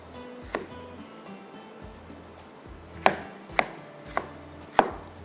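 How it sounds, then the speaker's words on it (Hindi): Knife chopping tomatoes finely on a cutting board in a kitchen: a handful of sharp, separate thuds spaced irregularly, close and fairly quiet, with no talking. "अब टमाटरों को थोड़ा सा बारीक चॉप करते हैं"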